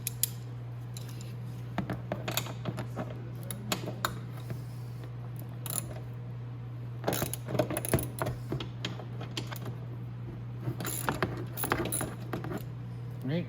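Bolts on the rear rack of a Venom E-Grizzly 1500W electric ATV are loosened with a hand tool, giving scattered close ratcheting clicks and metallic taps over a steady low hum.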